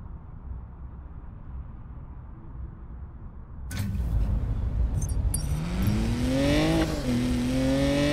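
A race car engine in the video game Need For Speed Payback: after a low idle rumble, the engine kicks in loudly and revs up through rising gear changes, close and continuous.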